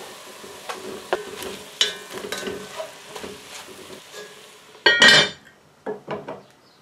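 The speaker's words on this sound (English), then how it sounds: "Adding the bacon to the onion." Chopped bacon sizzling with finely chopped onion in a pan for a ragu sauce, with a steady fry under repeated stirring scrapes and a few clinks of utensil on pan, ending in a sharp louder clatter.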